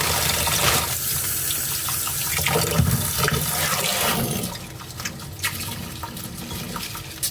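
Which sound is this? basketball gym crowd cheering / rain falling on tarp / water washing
water washing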